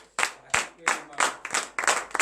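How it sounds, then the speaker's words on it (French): A congregation at a morning prayer service applauds, giving bursts of clapping and acclaim in rough waves about every third of a second, close and fairly loud, with voices mixed into the noise. "Donnez de vive acclamation."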